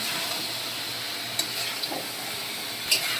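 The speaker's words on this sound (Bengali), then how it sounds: "এরপরে আমি এই চিকেন টেঙ্গিগুলো দিয়ে দেব এরপর ভালো করে নেড়ে ফেলে নেব" Chicken drumsticks fry in spiced oil with a soft, steady sizzle and hiss, broken by a couple of faint stirring clicks; no one speaks.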